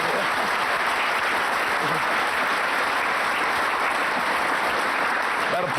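A studio audience applauds on a car show, a dense and continuous roar of clapping that holds at an even, loud level throughout.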